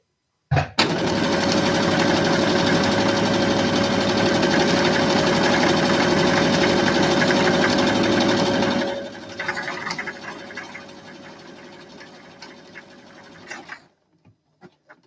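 A sewing machine driven by foot pedal stitches buttonholes, running in a loud, steady mechanical whir for about eight seconds, then continuing at a slower, softer pace before stopping, close and alone.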